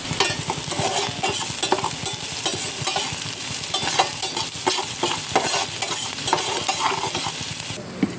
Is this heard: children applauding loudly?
no